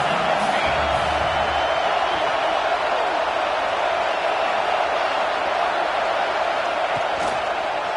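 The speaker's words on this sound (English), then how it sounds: "Here comes second down, and this crowd is turning it up a notch." College football stadium crowd, Auburn game, roaring in a dense, sustained wall of cheering that stays loud and steady throughout.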